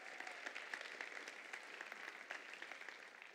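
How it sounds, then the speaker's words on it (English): An audience applauds athletes at a school event, producing steady, dense clapping that is fairly faint and distant and continues without a break. "Let's give them a round of applause."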